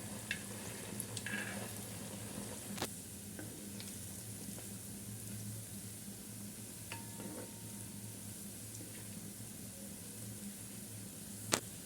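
Continuous crackling sizzle of sweet banana balls deep frying in hot oil, with occasional faint clinks of a utensil, no voices.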